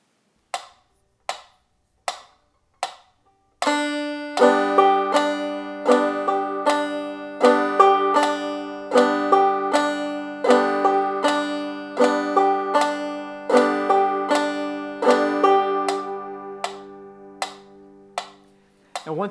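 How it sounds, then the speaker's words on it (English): Clawhammer banjo exercise: a few single plucked notes, then a repeating pattern of hammer-on on the first string, brushed strum and thumb stroke, steady bright plucked rhythm, close and clear with no talking. "we're going to again play a hammer on the first string and then follow that with a strum and a thumb stroke"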